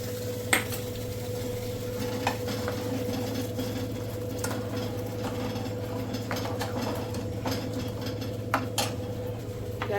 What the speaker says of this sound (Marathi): आता हा तडका आपण या दहीमध्ये टाकूया आणि छानपैकी मिक्स करून घेऊया.